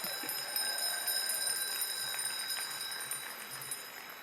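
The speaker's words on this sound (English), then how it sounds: "Ring the bell." A bell rings at the 2015 American Legion Auxiliary National Convention, its bright sustained tones repeating and lingering over the hum of a large hall.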